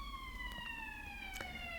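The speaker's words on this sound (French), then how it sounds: "il y a une sirène qui passe." The siren of a passing emergency vehicle wails steadily at a distance, a sustained falling tone with faint traffic rumble beneath and no talking.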